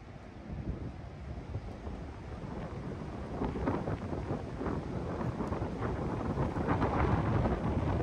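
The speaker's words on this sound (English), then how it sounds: "you can probably tell it's really, really windy up here" Strong wind buffets the microphone on a mountain summit in the Jefferson National Forest, Virginia, a continuous roaring rumble that swells and gusts louder toward the end, with no talk.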